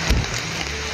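Heavy rain falls in a steady dense wash, loud and close, with a single low thump near the start.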